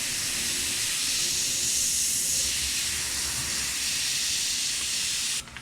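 An airbrush sprays paint in a steady, close, continuous hiss that holds level for over five seconds, then cuts off sharply at the end.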